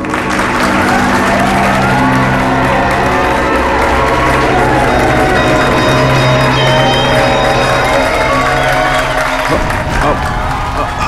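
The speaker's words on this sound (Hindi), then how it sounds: "तालियां!" A theatre audience breaks into loud, sustained applause and cheering at a stage show, with dense clapping, whoops and shouts, and voices mixed throughout.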